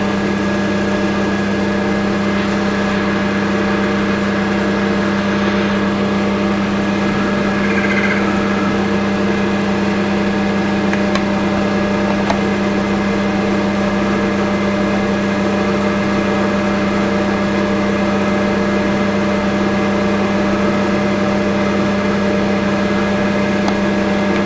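Metal lathe fitted with a carbide-tipped tool, spinning at 900 RPM while turning 2 mm thick washers; a steady, loud machine hum with constant tonal drone and faint cutting noise throughout, no talking.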